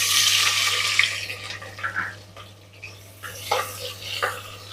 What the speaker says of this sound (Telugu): హై ఫ్లేమ్ మీద వేయించేసేయండి. ఇవి మనకి ఇప్పుడు ఫ్రైడ్ ఆనియన్ కావాలి కాబట్టి ఆనియన్ మనం ఫ్రై చేసుకుంటాం.